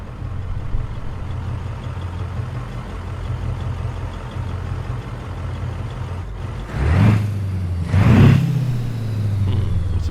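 Simulated Peterbilt 389 truck engine from American Truck Simulator with an Outlaw 359 mod, a low steady idle rumble that swells in two loud revving bursts toward the end.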